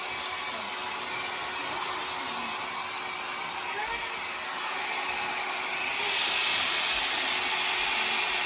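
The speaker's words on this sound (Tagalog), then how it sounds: "Indela, you want blower?" A hair blow dryer blows steadily and loudly up close while hair is styled before a birthday celebration, a continuous rushing whoosh that swells slightly toward the end, with no voices over it.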